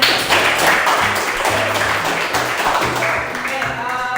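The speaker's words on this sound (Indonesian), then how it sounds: "Sekali lagi tepuk tangan dong untuk semuanya." A classroom of students applauds the student groups, a steady dense patter of clapping hands lasting several seconds, with a voice speaking over it.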